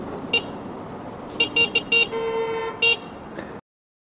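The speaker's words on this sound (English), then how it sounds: "She keeps going, and I'm honking." The horn of an imported full-size Chinese electric motorcycle honks in Boston traffic: a short toot, then a quick run of four bursts with a longer blare, and a final honk, loud and close.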